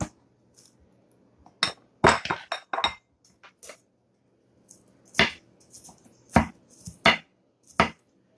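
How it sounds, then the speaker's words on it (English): Onion being chopped with a knife on a cutting board for burritos: a few separate sharp knocks, then a quick cluster of close chops, a pause and several more crisp strikes, with no talking. "I might chop that one again"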